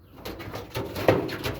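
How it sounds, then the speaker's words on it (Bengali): Pigeons on a home pigeon farm coo softly in short repeated bursts at feeding time, close by, with light fluttering and shuffling around them. "উপরে সব কবুতর চলে আসছে, কারণ খাবার খাওয়ার সময় চলে হয়েছে এখন"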